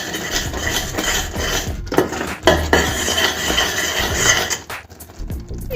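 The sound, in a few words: stirring ghee into coconut burelu mixture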